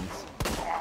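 A single sharp gunshot from a slow-reloading gun in Resident Evil 2, a short crack with a quick decay amid quiet game ambience.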